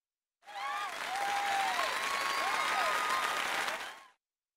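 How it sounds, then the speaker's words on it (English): Crowd applause for dance contest participants, a dense wash of clapping lasting about four seconds, with whistling or cheering tones sliding over it and a clean start and stop. "please give a big round of applause for our talented participants"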